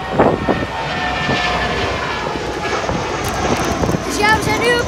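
Airplane engine roar at Brussels airport, a steady loud broadband rumble filling the whole stretch, with a voice talking over it.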